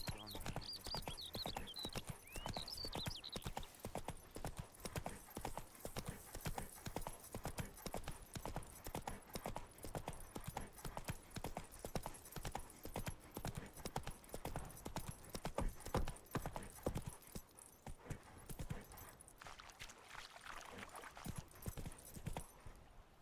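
Horse hooves clip-clop steadily at a gallop in The Witcher 3, loud and continuous throughout with brief whinnies early on.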